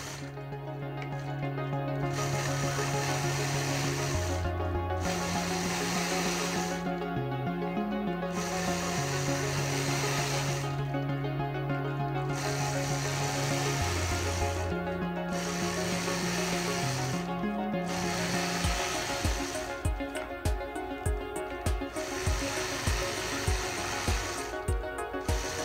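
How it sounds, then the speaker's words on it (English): A sewing machine runs steadily, stitching in the ditch around the outside of a quilt block. A continuous motor whir holds with shifting pitches, then turns to rapid, uneven stitching pulses near the end, with no talking. "I'll start out this quilt block design by stitching in the ditch all the way around the outside."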